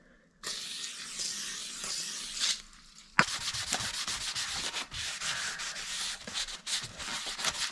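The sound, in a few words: wiping residue off a brake rotor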